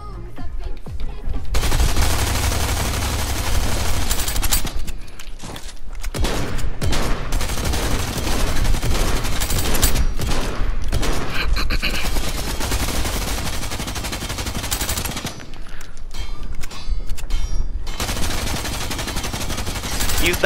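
Rapid SMG bursts from Fortnite, sustained and loud across most of the stretch with brief gaps, dense automatic fire alone without voices.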